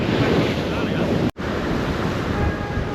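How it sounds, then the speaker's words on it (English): Fierce storm waves crash continuously at Dawlish, Devon, during Storm Nelson, a loud, dense roar of surf with wind buffeting the microphone and a brief dropout partway through. "the waves are fierce"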